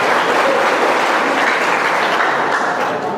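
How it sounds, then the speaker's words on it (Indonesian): Steady, dense applause from a crowd at a religious talk in a prison, continuous and even throughout with no breaks. "Tepuk tangan dulu."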